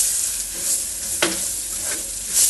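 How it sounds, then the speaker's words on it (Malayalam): Coriander powder is stirred into a frying masala in a pan for fried chicken curry, a continuous close sizzle with spoon scrapes and a sharper clink near the middle; no voices. "ഇനി നമുക്ക് മല്ലിപ്പൊടി ഇടാം ഇച്ചിരി കൂടി ഇടാം നമുക്ക് മിക്സ് ചെയ്യാം"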